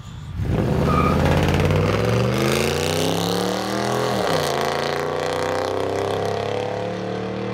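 A 2010 Toyota Tundra 5.7-liter V8 with true dual straight-pipe exhaust roars up hard and holds a loud, deep rumbling rev, dipping briefly mid-way before surging again, close by with no talking.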